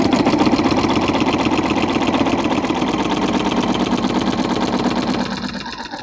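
A sewing machine fitted with a walking foot runs steadily as it straight-stitches a quilt from side to side, a loud, even mechanical whir with rapid rhythmic ticking that eases off near the end.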